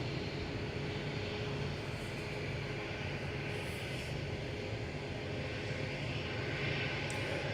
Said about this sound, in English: So we had Ryanair departing